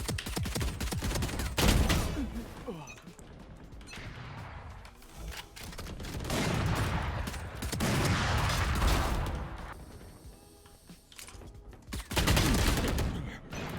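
Ghost pistol gunfire in Valorant with a new skin, repeated sharp shots in bursts amid game action and impacts, loud and close, with a player's voice talking in between.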